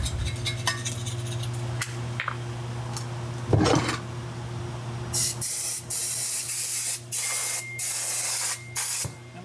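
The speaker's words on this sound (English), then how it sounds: "we got the spray down brake clean" Bursts of aerosol brake cleaner hiss out in a series of short, loud blasts, with a few metallic clinks and scrapes before them.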